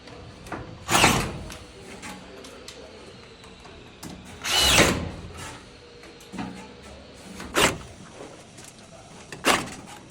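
A power drill drives screws into an elevator shaft track, with several short whirring bursts separated by pauses, close and fairly loud against a quiet work-site background.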